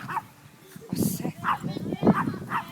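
An agitated dog barks and yips in short bursts during a dog fight, close and loud, with whimpering and people talking over it.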